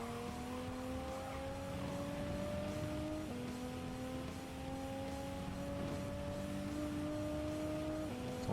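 A race car in Gran Turismo 7 drives a lap: a steady, high engine whine holds through each gear, dropping briefly at two upshifts, loud and continuous with no talk.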